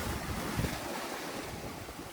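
Surf breaks and washes along the rampart of Sindhudurg fort by the sea, a soft continuous roar mixed with wind noise, fairly faint and even, without speech.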